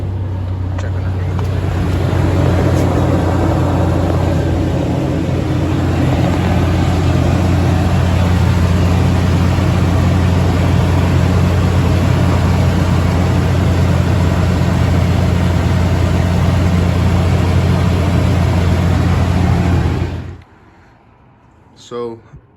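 A 2002 Toyota Tundra pickup idles after a fuel filter change, a loud, steady low drone close by that holds evenly for about twenty seconds before cutting off abruptly.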